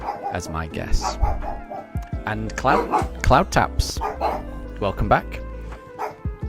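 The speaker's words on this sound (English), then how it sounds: "Apologies that my dogs are barking" Pet dogs bark and yip in short repeated bursts close by, mixed in with someone talking over them in a home setting during game commentary.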